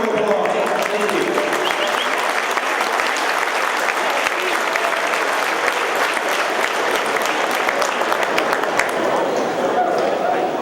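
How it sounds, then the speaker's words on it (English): An audience at a high school basketball championship final breaks into loud, steady applause, dense clapping with scattered sharp claps and crowd noise that holds at full strength throughout. "Please give him a round of applause"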